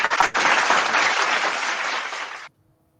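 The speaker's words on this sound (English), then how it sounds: "Big round of applause" Dense, steady clapping from a small group during a podcast recording, close and loud, running for over two seconds before cutting off abruptly into near silence.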